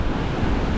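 Ocean waves washing onto a beach at a Boracay resort, a close, continuous rumbling surf roar with wind noise on the microphone.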